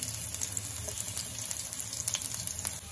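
Chopped garlic frying in hot mustard oil in a pan, a steady close hiss and crackle running throughout with scattered small pops and no talk.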